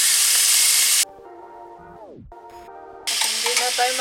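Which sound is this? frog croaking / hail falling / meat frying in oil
meat frying in oil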